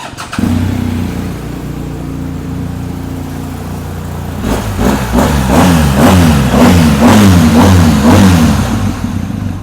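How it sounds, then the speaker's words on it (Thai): A 2024 BMW R1250GSA Triple Black adventure motorcycle with its boxer twin idling loudly and close, then revved in a rapid series of throttle blips that rise and fall in pitch before settling back, with no talk over it. "ฟังเสียงยนต์กันดูครับ"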